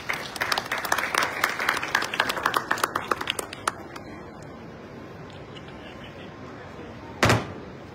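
An audience claps after a Chief Minister's address at a formal session, with dense applause for about four seconds that thins into scattered claps and fades, followed by one sharp thud near the end.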